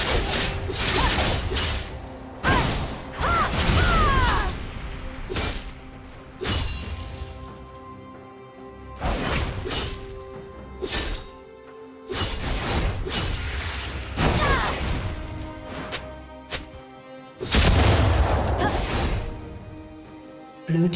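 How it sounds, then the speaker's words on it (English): Crashing, shattering bursts from a destroyed turret in League of Legends, a top-lane Riven vs Sylas match, arriving as repeated loud impacts with brief gaps, layered over game effects and whooshes. "Blue team's turret has been destroyed."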